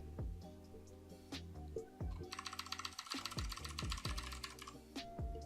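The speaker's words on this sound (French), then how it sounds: "Nouveau clavier mécanique" Clicky keystrokes from a mechanical keyboard with blue switches, typed close by in quick, uneven bursts. A faint steady tonal hum sits underneath.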